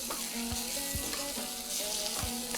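Red chilli powder being stirred into a sizzling tadka for restaurant-style dal, hot oil frying steadily and loudly up close, with occasional scrapes of the spoon against the pan.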